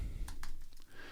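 Computer keyboard keys tapped while entering text in Photoshop, a few quick separate clicks in a short burst over low room noise.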